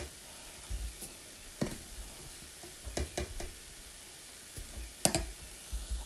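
Coriander, cumin and other spices being stirred into a samosa filling: soft, faint scraping and sizzling with scattered utensil clicks and taps, irregular and close.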